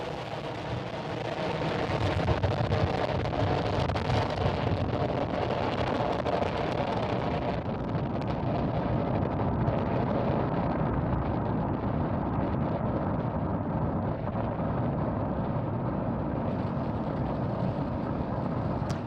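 A SpaceX Falcon 9 rocket climbs away from pad 39A at night, its launch roar a steady, dense rumble that holds loud and unbroken throughout, easing only slightly toward the end.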